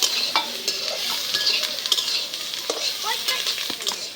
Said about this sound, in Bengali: তেলের উপর সুন্দর করে ভাইজা নেব